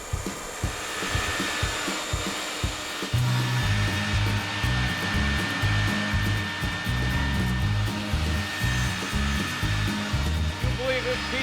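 A 1930s-built machine by Lyle Dickerson working bamboo strips for a handmade fly rod, a loud continuous whirring drone with rhythmic mechanical thumping that intensifies after a few seconds and runs steadily throughout.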